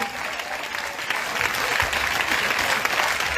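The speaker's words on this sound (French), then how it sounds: "Maintenant, regarde, acclamation pour toi-même." A church congregation claps loudly and steadily during a lively worship service, dense applause running throughout with a faint voice beneath.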